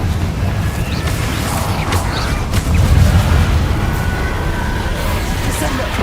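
Confringo blasting spell explosions from the Hogwarts Legacy game, heard as dense low booming blasts with a heavier burst near the middle, loud and continuous amid other spell effects.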